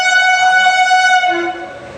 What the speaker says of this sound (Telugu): ఎలక్ట్రిక్ ట్రైన్ ఇది. డీజిల్ ట్రైన్లానే వచ్చింది సౌండ్ మాత్రం.